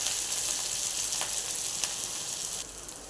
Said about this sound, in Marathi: कढीपत्ता आणि मिरची हेही परतून घेऊया